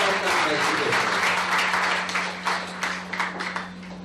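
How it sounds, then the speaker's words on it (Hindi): Audience applause at a Hindi-language company awards function, a steady wash of many hands clapping that lasts throughout and thins toward the end, heard over a constant low electrical hum. "आप लोगों से गुजारिश करूंगा तालियों के अंदर कंजूसी न करें"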